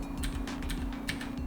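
Cherry MX Blue mechanical keyboard switches typed on, giving a quick run of crisp, clicky keystrokes at close range over a steady low hum.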